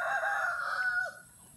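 A rooster crows close by, one loud drawn-out call that breaks off at the end, followed by quiet.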